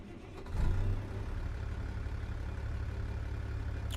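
A new truck in American Truck Simulator rumbles at a steady, low engine drone, with a brief swell as it pulls away, then a constant mid-level hum throughout.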